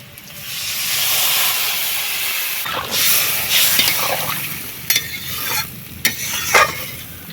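Water poured into a hot pan of fish curry with potatoes, loud hissing steam surging up and then settling into bubbling sizzle, with a few sharp clinks of a utensil against the pan up close.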